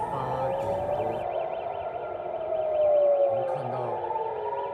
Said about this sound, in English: Sirens rang across Israel as people were told to rush to bomb shelters.